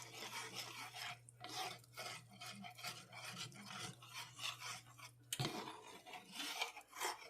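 A spoon scrapes and stirs creamy Creole sauce in a pot, giving steady repeated rasping strokes with a brief clatter near the end, close and moderately loud with no talking.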